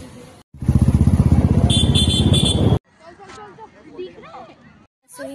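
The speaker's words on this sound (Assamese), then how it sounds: "এতিয়া আমি যাম বাইকত" A motorcycle engine revs close by with a fast, throbbing pulse for about two seconds, then cuts off, followed by people talking outdoors.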